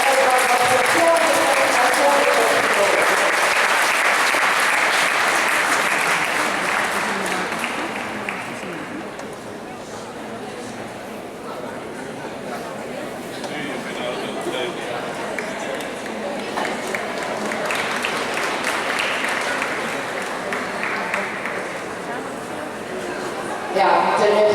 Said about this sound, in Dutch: ja, terecht het applaus